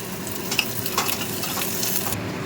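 Fish and green chillies fry in hot oil with a splash of water, giving a steady close sizzle with a few crackles and stirring scrapes, no voices.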